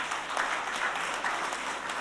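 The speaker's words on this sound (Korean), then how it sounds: "박수 한번 치십시다" Audience applause at the opening round table of a conference hall, a steady wash of clapping from many hands that lasts throughout.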